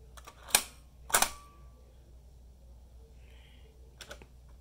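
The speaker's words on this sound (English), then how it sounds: "The box tengor, on the other hand, has a shutter mechanism that only allows for one" A Zeiss Ikon Box Tengor box camera's shutter is tripped, giving a few sharp, close mechanical clicks separated by short quiet gaps against a faint room hiss.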